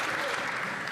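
Applause ripples through the House of Commons chamber, a dense steady patter of many hands filling a brief moment, with voices mixed into it.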